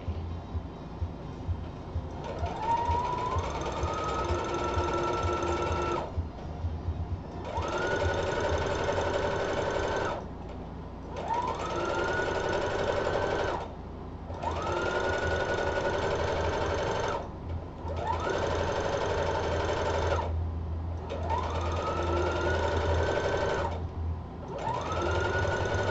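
A sewing machine runs in repeated bursts of several seconds each, stitching a skirt with a long stitch length, its motor whirring up in pitch at the start of each run with short pauses between.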